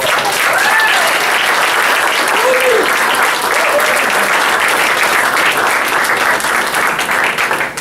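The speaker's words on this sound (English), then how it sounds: "So, Roby, stand up. We'll give you a round of applause." Steady, dense audience applause at a capital campaign leadership celebration, loud and sustained throughout, with faint voices and whoops mixed in before it starts to taper at the very end.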